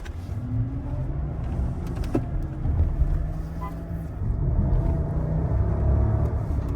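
A Lexus LS 460 with 96,000 miles accelerates hard on a test drive, a steady, fairly loud cabin rumble of engine and road noise building slightly over a few seconds with no talk.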